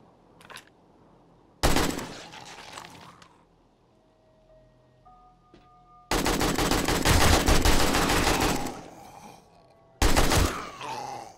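Gunfire in the survival video game 7 Days to Die Alpha 18: loud, rapid automatic bursts in three separate stretches, the longest lasting several seconds, with quieter game sounds and short tones between them.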